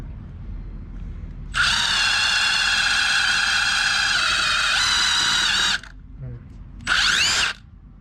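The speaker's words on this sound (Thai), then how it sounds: "อันนี้เจาะไม้แล้วนะครับ เจาะไม้เดี๋ยวผมเจาะให้ดูอีกรอบ" A Milwaukee M18 impact driver with a 1/4 inch bit bores into wood: a loud, close, high whine holds steady for about four seconds, drops off, then returns in one short burst.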